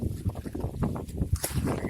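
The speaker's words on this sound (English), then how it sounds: "right now, pretty windy out" Wind gusts buffet an action camera's built-in microphone outdoors, producing a continuous low rumbling buffeting with uneven surges throughout.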